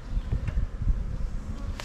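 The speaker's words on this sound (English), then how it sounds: "I'm gonna crawl up into this tree here and attempt to brush some bees into this lid" A honeybee swarm hangs in a tree, giving a dense, steady buzzing hum with a few louder passes close by and no voices.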